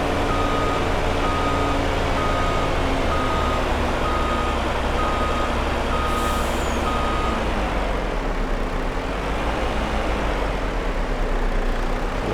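A vehicle's reversing beeper sounds in steady regular pulses over a loud, constant engine drone while a trailer is moved in Farming Simulator 22, with no talk.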